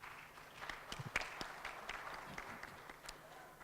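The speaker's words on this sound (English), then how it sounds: "And they deserve a round of applause for this." At a ministerial panel on fertility care, a faint, distant round of applause is heard as sparse, scattered claps from the audience, with a few louder hand slaps standing out.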